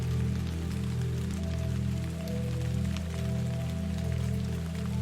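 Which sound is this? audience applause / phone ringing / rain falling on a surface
rain falling on a surface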